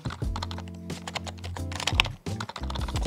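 Typing on a Lofree Flow keyboard with an aluminium body, a fast, steady run of close, crisp key clicks and thocks that pause briefly before the rapid keystrokes resume.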